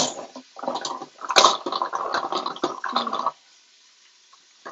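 Beef broth poured into an Instant Pot, a steady gurgling liquid pour that runs loud and close for about three seconds before stopping abruptly.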